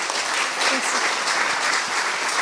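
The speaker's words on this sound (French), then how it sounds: "Donc je vous propose de l'applaudir" An audience claps steadily and fairly loudly throughout, a dense, even wash of applause at a World Altruism Day gathering in Strasbourg, with no voices standing out.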